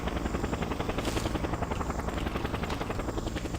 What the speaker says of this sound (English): a helicopter spawned by the game is going to come and pick us up